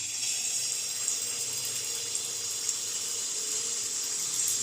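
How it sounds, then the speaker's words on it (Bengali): Semolina-and-flour malpua batter sizzles in hot oil, a steady bright hiss of deep-frying that runs evenly throughout with faint pops. "তো আমার তেলটা গরম হয়ে গেছে। এখন আমি ব্যাটারটা অল্প অল্প করে দিয়ে দেব"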